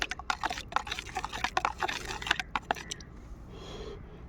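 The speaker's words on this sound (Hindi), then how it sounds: "जो भी आपके पास फंगिसाइड है उसको पानी में इस तरह करके पहले घोल लीजिएगा अच्छी तरीके से।" Fungicide is stirred into water in a mug to dissolve it, making quick, irregular clinks and liquid swishes close by for about three seconds before trailing into a quiet hiss.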